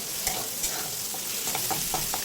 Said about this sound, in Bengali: চালগুলোকে একটু ভেজে নেব চালগুলো এইভাবে নাড়াচাড়া করতে করতে